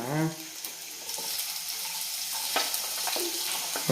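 Onions sizzle and crackle in hot oil in a pan while hakka noodles are being cooked at home, a close, steady frying hiss with a brief voice at the start.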